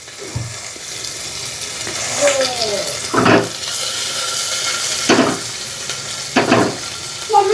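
Onion sizzles in hot oil with garlic in a pan, a continuous frying hiss broken by occasional stirring scrapes and clatters, with a voice speaking now and then over the cooking.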